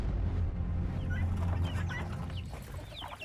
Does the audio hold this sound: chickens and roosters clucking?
yes